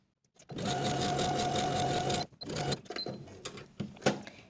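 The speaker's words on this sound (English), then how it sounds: "I'm going to baste with my longest stitch length with a 1/4 inch seam allowance" A home sewing machine runs a steady burst of long basting stitches on blouse fabric, starts and stops in short runs, close and fairly loud, with no talking.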